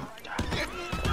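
A horse in Red Dead Online lets out a brief whinny amid clattering game sounds, with a voice talking over it.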